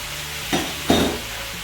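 Chicken and herbs being stirred in a frying pan, a faint steady sizzle with two short scraping stirs, alone and close.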